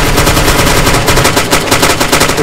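Loud, continuous automatic gunfire from the video game ArmA 2, a rapid, dense stream of shots packed close together with no pauses and no voices.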